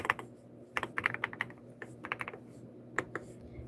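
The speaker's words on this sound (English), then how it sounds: "I'm typing names live, leaving you in the chat" Someone types names on a computer keyboard in quiet, fast, irregular bursts of clicky keystrokes with short pauses between words, close to the microphone and with no voice heard.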